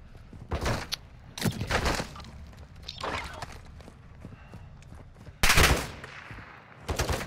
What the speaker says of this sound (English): Who is shooting us?